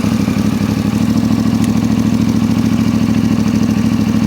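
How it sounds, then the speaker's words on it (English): A CFMOTO 450MT with a 450cc parallel twin engine idles close up, a loud steady, lumpy rhythmic thrum with mechanical clatter and no talking. "So we'll crank her on. So this is a 450cc parallel twin"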